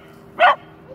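A single sharp yip-like bark from a dog as a corgi meets a beagle, close and brief against quiet background.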